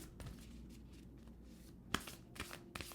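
Quiet shuffling of a deck of oracle cards during a tarot-style reading, soft papery riffles with a few sharper slaps and flicks near the end, close and alone with no speech.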